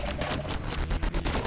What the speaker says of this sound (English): Those are the Raptor Lip shots, I think, that landed.